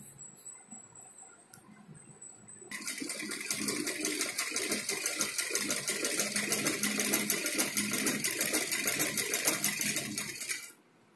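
A sewing machine stitches the back neck of a designer blouse, starting after a quiet pause and running in one steady, rapid, evenly pulsing stretch for about eight seconds before stopping abruptly.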